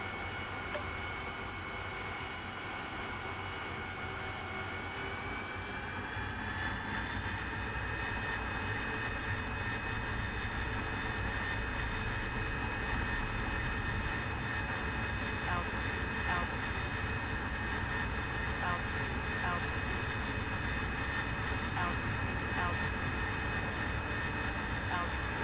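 An AV-8B Harrier II jet in DCS runs at a loud, steady engine roar with a high whine that rises in pitch early on, then holds level and continuous through takeoff.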